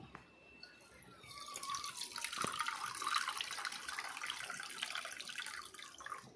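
Water poured from a bowl into a kadai on the gas stove for rasgulla sugar syrup, a steady close splashing and trickling stream that runs continuously with no talk.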